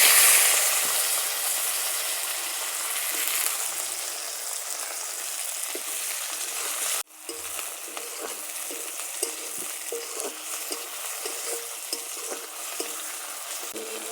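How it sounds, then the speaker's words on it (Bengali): Chopped onion and tomato dropped into hot oil for a catla fish curry with pointed gourd and potato, a loud hissing sizzle that dips sharply midway, then resumes as a steady crackling fry. "ওই তেলের মধ্যে এবার আমি পেঁয়াজ আর টমেটো কোচানো দিয়ে"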